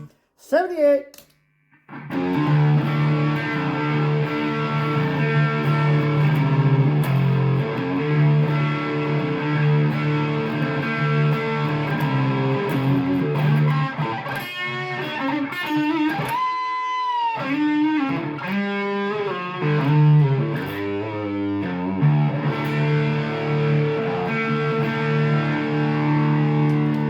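Electric guitar played through a 1978 Distortion Plus pedal with every control maxed, giving loud, thick distorted chords and bending lead notes that sustain nearly throughout after a short opening pluck.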